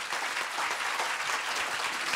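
An audience applauding to welcome a speaker at an entrepreneurship talk, dense steady clapping from a sizable crowd filling the room at even loudness throughout.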